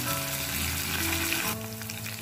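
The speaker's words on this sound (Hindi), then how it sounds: "इस तरह से हम अच्छे से इसे सबको चटका लेंगे।" Curry leaves crackle and sizzle in hot oil on a low gas flame while a tempering is prepared for a snack of curd and semolina, a steady close frying hiss with no talking.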